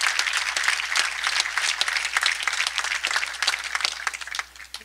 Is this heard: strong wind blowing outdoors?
no